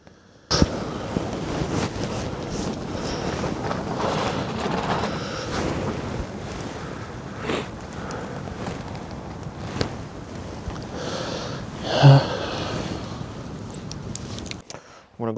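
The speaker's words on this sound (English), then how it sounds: "The wind's starting to pick up again." Wind gusts and buffets the microphone at a winter camp during a snowstorm, a constant loud rushing roar that swells and eases over about fifteen seconds.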